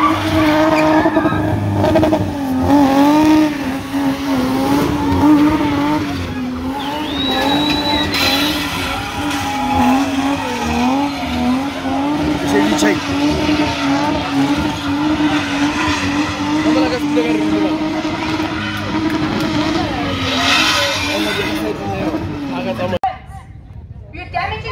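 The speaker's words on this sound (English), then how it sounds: "You're damaging the tire." Car tires squeal in a long, loud, wavering screech as the wheels spin at a car meet, with the engine revving underneath, voices and crowd chatter around, and an abrupt cutoff near the end.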